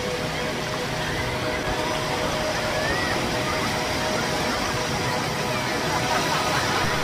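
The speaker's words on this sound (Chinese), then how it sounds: "今天的海浪比较温和，没有以前看到的那么澎湃。" Gentle sea waves washing onto Big Wave Bay beach on Hong Kong Island, a steady broadband surf wash that holds even and continuous throughout, with no distinct wave crashes and no voices.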